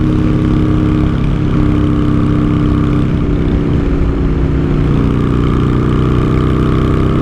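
Honda Shadow motorcycle with its engine running, a loud, steady low rumbling throb close by with no talk over it.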